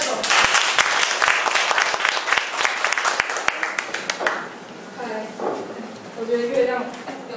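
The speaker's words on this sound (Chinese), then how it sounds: "拍手拍手。" An audience at a talk event gives loud, dense applause for a few seconds, which fades into scattered claps, with a speaker's voice coming through near the end.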